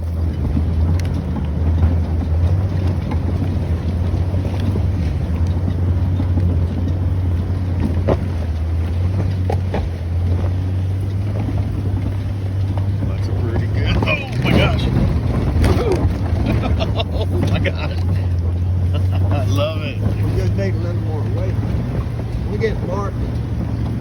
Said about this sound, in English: I'm really impressed with this old Jeep.